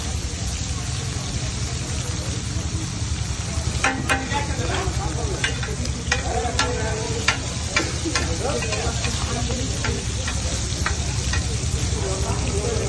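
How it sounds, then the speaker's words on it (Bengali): Fish shallow-frying in oil hisses in a steady, continuous sizzle close by, with scattered clicks and scrapes of a utensil against the pan running through it. "মাছটা ভাই হালকা ভাজা"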